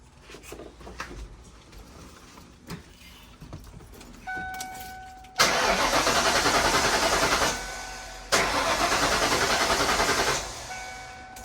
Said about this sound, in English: we're just going to crank it a couple of times to make sure there's no pressure